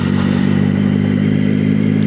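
Motorcycle fitted with an aftermarket Delkovich exhaust, running with a steady, loud low drone and light mechanical clatter, close by, no talking.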